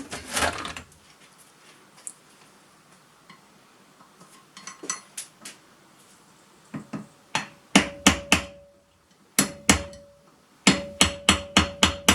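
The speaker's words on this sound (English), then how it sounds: "Hammer, hammer." Hammering on a Suzuki GN300 rear sprocket: sharp, ringing metal strikes come in quick runs of three or four blows, separated by pauses, loud and close.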